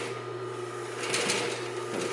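A Consew 226R industrial sewing machine stitches through layers of material that step up in thickness, giving a steady mechanical hum with a low drone and a faint rhythmic clatter, with no voices.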